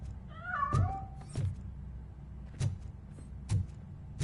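A cat in the video game Robocop Rogue City gives one clear, wavering meow near the start, followed by a few soft thuds and clicks spaced through otherwise quiet game ambience.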